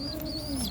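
A brief, soft coo rises from pigeons in a pigeon loft, a single short low call heard close by with no talking.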